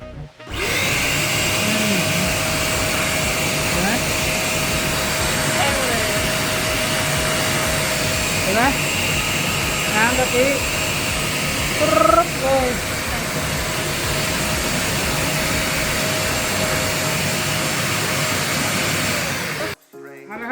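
A YILI 12-litre industrial wet/dry vacuum blows water, running as a loud, steady motor whine with a constant tone for about twenty seconds, and someone talks over it.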